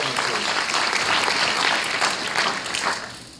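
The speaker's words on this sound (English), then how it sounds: "Give our students a round of applause." A dinner audience at a scholarship dinner applauds the students, a dense, steady round of many hands clapping that fades slightly toward the end.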